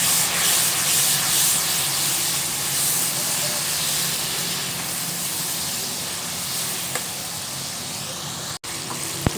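Loud continuous sizzling and hissing as water hits spice masala of turmeric and crushed chili in a hot pan, steady throughout, with a couple of faint clicks near the end.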